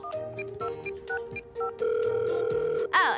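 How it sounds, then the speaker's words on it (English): A cartoon telephone rings with bright, electronic warbling tones in short repeated bursts, then a longer sustained ring, fairly quiet and clear. "And finally, the long distance phone call."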